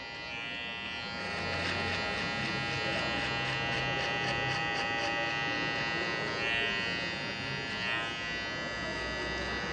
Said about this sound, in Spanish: Para esto voy a usar mi trimmer y voy a cortar 1 centímetro más abajo todavía.